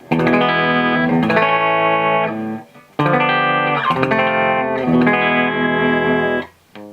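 Clean electric guitar played through a bypassed signal before a comparison of Boss distortion pedals, bright sustained chords strummed in two phrases, close and loud with a short gap between them and no talking.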